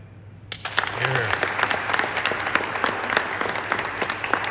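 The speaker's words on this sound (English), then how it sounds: "I would like to give a round of applause to all the Marines here" A crowd at a Marine Corps staff sergeant promotion ceremony breaks into sustained applause and cheering after a brief quiet start, with dense clapping continuing steadily to the end.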